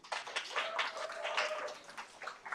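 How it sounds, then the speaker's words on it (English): A round of applause from a conference audience, many hands clapping in a dense, fairly distant patter that swells and fades over a couple of seconds, with a faint tone beneath. "so huge round of applause"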